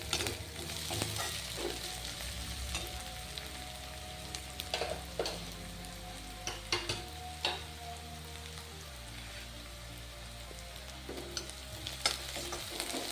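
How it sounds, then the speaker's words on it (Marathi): Spice mixture for a Khandeshi brinjal bharit being stir-fried and roasted in a pan, giving a steady close sizzle with scraping stirs and occasional spoon knocks, with no talk. "आपलं सगळं मिश्रण दोन मिनटं आपल्याला छान असं परतून घेऊन भाजून घ्यायचं आहे"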